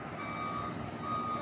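A parking truck's reversing alarm sounds as a continuous high electronic tone over a low engine rumble, close and steady throughout.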